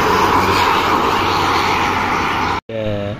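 A bus speeds past on the Solo-Semarang toll road with a loud, steady roaring rush of engine and wind noise close by, ending in a brief cut before a voice begins talking.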